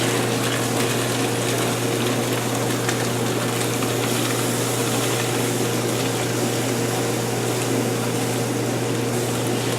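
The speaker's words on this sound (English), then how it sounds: "We're going to slowly pour it in." Hot roasted turkey stock being poured slowly from an aluminum pan, a steady, continuous liquid gush that stays even and close throughout.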